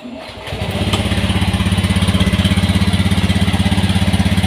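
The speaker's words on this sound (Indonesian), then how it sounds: "kita hidupkan motornya" A Honda Beat FI scooter engine cranks and catches, then settles into a steady, rapid idle putter that runs loud and close for several seconds, with no voice over it.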